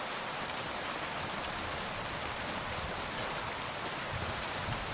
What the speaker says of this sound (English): It sounds like it's raining.